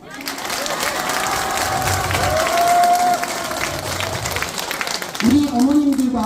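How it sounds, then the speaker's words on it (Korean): An audience of parents at a community hall closing ceremony claps and cheers together, a steady wash of applause, with a voice calling out over it near the end. "마지막 함성과 박수 발사!"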